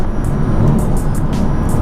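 A car fitted with new Vorsteiner wheels accelerates, heard from inside as a steady low engine drone with a few light ticks and rattles over it.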